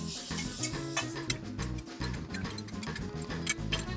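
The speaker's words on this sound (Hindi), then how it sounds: "ये एप्पल जो मैंने कसी थी वो इसमें डालूंगी। हाँ डालो अब डालो। हिला हाथों हाथ फटाफट।" Grated apple stirred into a flour halwa in a pan, with rhythmic scraping and soft sizzling from the cooking mixture, a close and steady stirring with no talking.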